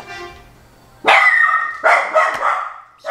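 A dog barks indoors at close range, loud and sharp, in about three bursts after a quieter start, with no talking over it.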